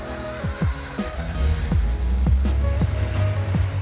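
A car engine fitted with Weber DCOE carburetors runs after tuning, a low, uneven rumble with repeated swelling revs and pitch sweeps, close and fairly loud with no talk.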